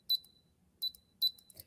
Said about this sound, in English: It's just a simple 3 GPIOs and a buzzer.